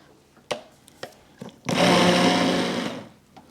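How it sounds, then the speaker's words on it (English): An immersion blender whirs steadily through smooth, thickening keto apple butter for about a second and a half, a loud continuous motor drone that follows several sharp knocks and taps of the pot and stops abruptly. "I'm just gonna go around one more time with my immersion blender just to make sure we got everything the way we want it"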